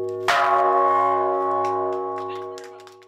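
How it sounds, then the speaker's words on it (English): A single deep bell is struck once and rings out, its bright tone slowly fading over a few seconds. "ring the bell to awaken people's conscience"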